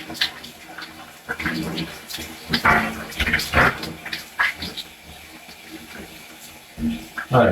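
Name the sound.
water spraying from a hose during a shower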